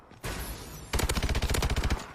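Rapid automatic gunfire from a Call of Duty: Advanced Warfare match, a loud close burst of about a dozen evenly spaced shots after a brief lead-in whoosh, with no talking.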